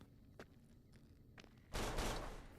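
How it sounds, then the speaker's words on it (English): A mine explodes in the Fallout New Vegas video game, a sudden loud burst after a couple of faint ticks and clicks, then a rumbling blast that tails off slowly. "Maybe it was a chain reaction from the first explosion."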